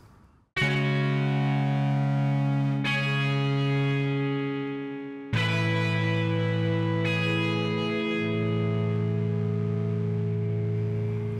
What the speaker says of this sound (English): If you have the distortion control selected and you click this envelope follower, the envelope follower will actually control the distortion instead of the filter